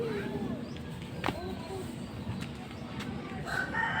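Roosters crow in the distance over a steady outdoor background near a riverside in Naic, Cavite, with a couple of calls rising above the hum and a voice faintly underneath.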